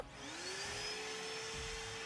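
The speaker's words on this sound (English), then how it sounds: "the last part of the cleaning is to vacuum the ash out of the belly of the cooker." A vacuum cleaner runs steadily and close, sucking ash out of the belly of a Lone Star Grillz pellet smoker, its motor whine rising in pitch as it spins up, then holding a constant roar.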